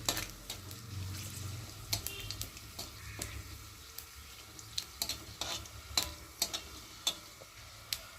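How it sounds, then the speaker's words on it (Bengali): Whole garam masala spices frying in hot oil for a khesari dal bora recipe, a steady sizzle with brief clinks and ticks of stirring scattered throughout, close and fairly quiet, with no talking. "এবার দিয়ে দেবো গরম মশলা গোটা, দিয়ে ভালো করে ভেজে নেব"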